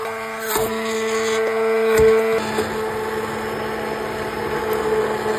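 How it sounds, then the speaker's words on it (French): A kitchen blender purees a vegetable sauce from an Indian-style vegetable dish, a steady motor whir with a shifting tone and a few brief clunks, running close and alone. "J'enlève les feuilles de laurier et je mixe la sauce."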